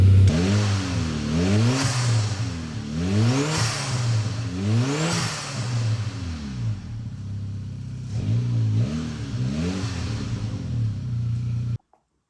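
A Saab 9000 Turbo engine revs hard several times in quick succession through a new custom exhaust with a 3-inch rolled tip, each climb and drop clear and loud, then a pause before two more revs, with deep exhaust rumble throughout.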